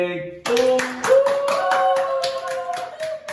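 Several people clap hands in a rhythmic series of sharp, close claps, about eight evenly spaced beats over a sustained musical tone, following a brief opening note.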